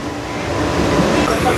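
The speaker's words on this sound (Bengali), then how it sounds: "ট্রেন এসে পৌঁছালো একটা স্টেশন," A train pulls into Lohapur station on a night rail route from Ranaghat toward Tarapith, giving a steady, close rumble of wheels and carriage noise that swells slightly as it runs.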